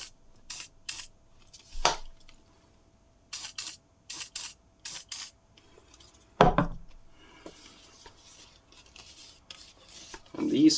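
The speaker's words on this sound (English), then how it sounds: "I'm just gonna spray them down with some WD-40 just to keep them protected." WD-40 is sprayed onto branch cutters in short hissing aerosol bursts, about seven spaced spurts, followed by faint handling and rubbing noises; a brief voice appears in the middle.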